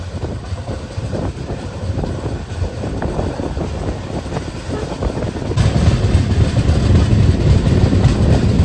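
A train travels slowly through forest in Madhya Pradesh with a steady rolling rumble that swells noticeably louder partway through, and no one speaks.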